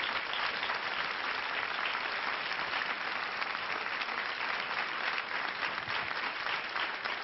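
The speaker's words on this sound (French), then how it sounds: "vous pouvez l'applaudir." A studio audience on a French TV show claps for a guest, a dense, even wash of applause holding steady from start to finish with no voices over it.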